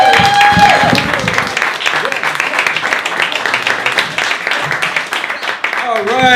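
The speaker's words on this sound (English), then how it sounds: "Please give a loud round of applause to Greg Dobroski!" At a stand-up comedy open mic, a club audience breaks into loud applause with cheering, sustained for several seconds before an emcee's voice comes in at the end.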